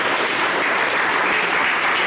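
An audience claps at an exhibition opening ceremony after a folk song performance, a dense, steady roar of applause that holds at even loudness throughout.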